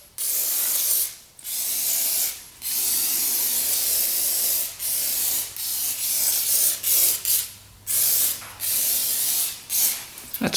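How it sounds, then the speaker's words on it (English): Repeated hissing bursts of penetrating oil sprayed from an aerosol can onto a worn sprocket on an old 1980 Honda dirt bike, about eight short and long sprays in an irregular rhythm, close and loud, with no talking. "Gonna douse that with some penetrating oil"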